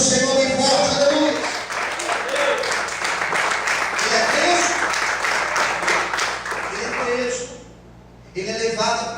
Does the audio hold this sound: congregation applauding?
yes